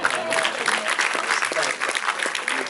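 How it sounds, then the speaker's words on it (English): An audience applauds at a film Q&A in a theater, dense, close clapping that stays loud and continuous from start to end, with some voices mixed in. "I feel like you deserve a round of applause for that."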